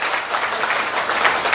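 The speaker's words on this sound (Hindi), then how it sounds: "एक बार ताली बजाओ तुम लोगों के लिए जो" Dense, steady clapping from an audience at a Hindu religious discourse, a Bhagwat Katha gathering in Delhi, filling the whole moment loud and continuous with no voices over it.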